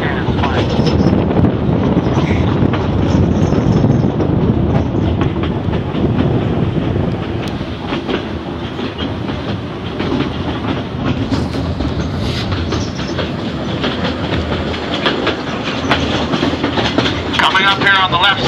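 Narrow gauge train on the Cripple Creek & Victor line rumbling steadily along the track, with continuous wheel noise and wind buffeting the microphone throughout.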